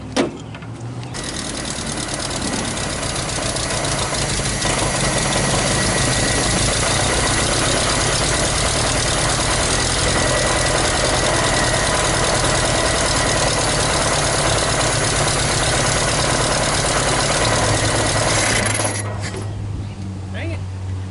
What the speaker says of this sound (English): it's backfiring through the